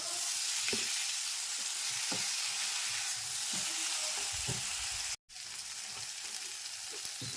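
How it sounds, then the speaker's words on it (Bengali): Pui greens and pumpkin sizzle loudly and continuously in a pan while being stirred, with soft scraping thumps through the steady hiss and a brief cut-out partway through. "সবজিটা খুলছি তলা অবধি আবার নাড়াচাড়া করে নিচ্ছি"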